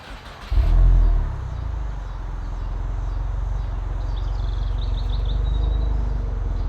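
A VB Subaru WRX fitted with an Aeroflow Dynamics axleback exhaust fires up with a sharp low blip. It then settles into a steady, deep, close rumble that swells slightly toward the end, with faint birdsong above it.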